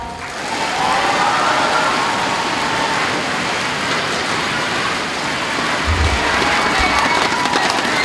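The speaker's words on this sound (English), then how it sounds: "Anybody please give them a big applause." A crowd at a public speaking and debating championship claps for the departing debaters, a steady, dense patter that stays loud and even for several seconds.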